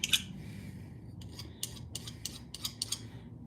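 A metal file rasping down a lead walleye jig head, heard as short, bright scraping strokes repeated in quick succession over a steady low background hum. The strokes are close and moderately loud.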